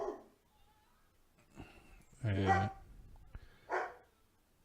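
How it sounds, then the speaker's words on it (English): A household dog lets out a couple of separate barks indoors, one louder mid-clip and a shorter one after, reacting to a neighbor, with a brief spoken word nearby. "The fucking dog."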